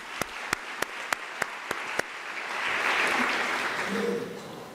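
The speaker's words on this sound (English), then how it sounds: "Let's give them a round of applause, colleagues" Audience applause for academics seated on stage at a Unisa spring graduation ceremony. A few sharp separate claps come first, then a broad, steady wash of applause that swells and holds from a hall full of people.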